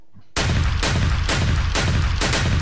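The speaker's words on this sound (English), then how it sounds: "Shots fired." Rapid gunfire erupts after a brief quiet moment, loud, close, repeated blasts in a steady rhythm of about five bursts.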